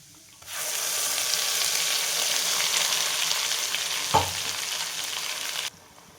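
A spice paste with turmeric and red chilli fries in a hot pan for a Maharashtrian village-style drumstick and pea curry, giving a loud, steady sizzle that begins abruptly and cuts off near the end, with one brief knock partway through.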